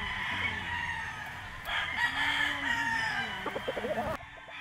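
Roosters at a gamefowl farm selling white Kelso, red Kelso and McLean Hatch birds crow loudly and repeatedly close by, with clucking and background farm noise, and a final burst of short clucks.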